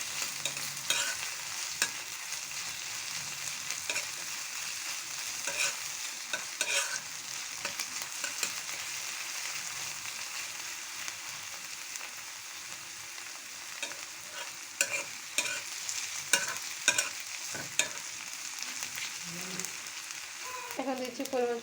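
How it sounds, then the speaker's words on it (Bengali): Sliced onion and dried red chillies fry in a pan for a raw mango pickle, giving a steady close sizzle broken by repeated scraping and clattering as a spatula stirs them; no speech. "পেঁয়াজটা আমি ভেজে নিচ্ছি।"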